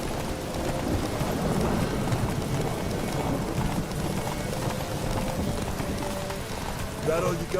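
Horse hooves clip-clop at a gallop in The Witcher 3, a steady rhythmic pounding under rain and rumbling ambience, with a faint voice nearby.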